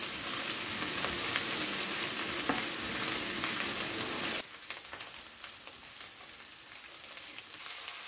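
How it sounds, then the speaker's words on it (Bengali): Onion with ginger and garlic paste frying in a pan for a boal fish curry: loud, dense sizzling with stirring for about four seconds, then dropping to a quieter crackle, with no talk. "একটু ভেজে নিব কাঁচা গন্ধটা দূর হওয়া পর্যন্ত।"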